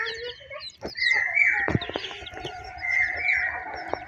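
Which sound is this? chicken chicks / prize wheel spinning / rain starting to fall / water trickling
chicken chicks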